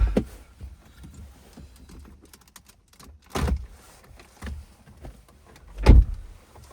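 An interior trim panel on a BMW F10 is prised loose by hand, giving soft scraping and creaking, then a few sharp, close clicks and a final louder pop as the clips release.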